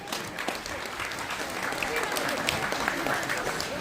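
Audience applause fills a hall at a national conference of the Sajjan Samaj, a dense steady wash of many hands clapping that swells slightly and holds throughout.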